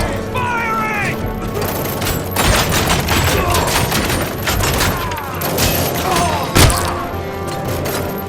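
Gunfire in RoboCop: Rogue City, a dense, continuous barrage of shots and heavy thuds layered with game effects and music, with one sharp loud crack near the end.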